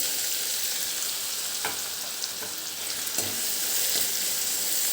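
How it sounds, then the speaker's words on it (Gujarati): Cumin and onion sautéing in a pan, a steady close sizzle with a few sharp spatula taps and stirring scrapes, no talking. "આને આપણે થોડી સાંતળવાની છે"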